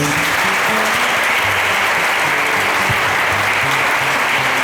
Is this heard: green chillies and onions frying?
no